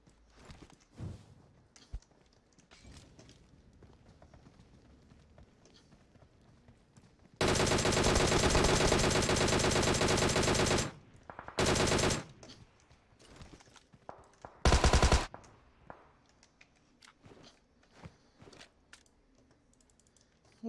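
PUBG Mobile gunfire from shooting at enemies: a long, loud sustained burst of automatic fire, then a short burst and a final brief volley, with quiet background between them.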